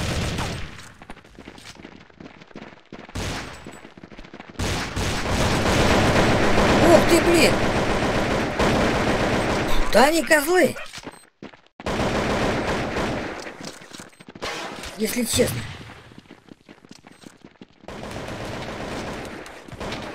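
Rapid bursts of gunfire from the top-down shooter Counter-Strike 2D, loud clustered volleys with pauses between them, while someone talks and exclaims over the shooting.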